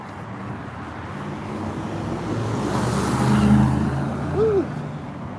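Cars rolling by in a slow, congested street, a steady broad road rumble that swells toward the middle with a brief engine rise near the end, fairly close.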